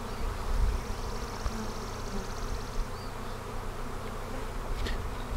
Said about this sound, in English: It's just great to run through a cloud of bees like this and hear the noise.